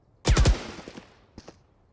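Gunfire in the tactical shooter Valorant: a tight, loud burst of three or four rapid shots, then a short pause and two fainter, sharper shots, with no talking.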